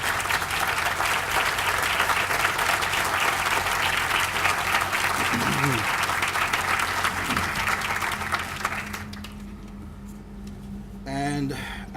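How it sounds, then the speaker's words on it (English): Sustained applause from a crowd at the Black History Museum groundbreaking ceremony, honouring a family, steady and full for about nine seconds before fading as a voice resumes. "receive a well-earned round of applause"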